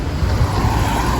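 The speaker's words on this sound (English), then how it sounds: "a yellow bus is gonna go past" A fast yellow privately owned reggae bus rumbles past on a street in Holetown, Barbados, its loud engine droning steadily nearby.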